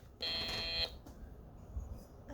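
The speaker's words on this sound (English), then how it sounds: "We have a buzzer now." A single electronic buzzer sounds for just over half a second, a harsh steady tone, then cuts off into quiet room noise.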